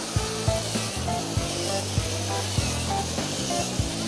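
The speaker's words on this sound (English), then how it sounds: "its battery-operated legs, and it will walk up smooth surfaces using physics inside, and these are suction pads" A battery-operated Geckobot toy climbs a smooth wall on suction pads, giving a steady mechanical whirring with regular soft clicks and thumps about every half second, close by.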